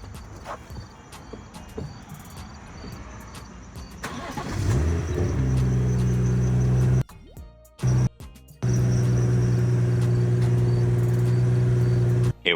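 A BMW F30's engine cranks and catches about a third of the way in. It then settles into a loud, steady idle hum with a couple of brief dropouts, after quiet background beforehand.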